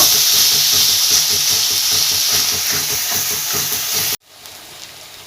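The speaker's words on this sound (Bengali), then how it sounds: "এবার আমি হলুদ গুঁড়ো দেব ছোটো চামচে দেড় চামচ হলুদটা দিয়েও কষিয়ে নেব" Spice paste with turmeric frying in a pan for katla fish curry, a loud close sizzle and hiss with rhythmic stirring, cutting off abruptly near the end.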